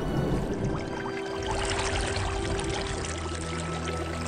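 Cartoon flood water rushes in as a steady, loud, broadband wash with a churning roar, continuous from start to finish with no voices over it.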